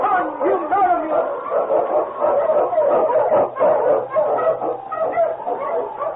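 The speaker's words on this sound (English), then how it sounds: "The Wonder Dog King, swiftest and strongest of Eskimo lead dogs, blazes the trail through storm and snow for Sergeant Preston" A radio-drama sled dog, an Eskimo lead dog on a Yukon trail, barks and yelps excitedly over a narrow, old-time broadcast sound, mixed with voices and dramatic background sound.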